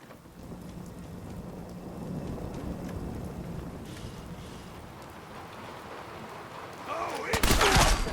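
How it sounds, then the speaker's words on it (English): Steady rain hiss and low rumbling thunder fill the Fallout 4 game world, with a sharp burst of loud crackling near the end that could be a close thunderclap or gunfire. "Getting rained on over here."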